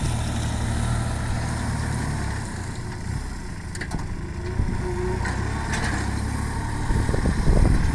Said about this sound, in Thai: คันนี้เป็น L3408 ครับรถไถคูเปต้าครับอันนี้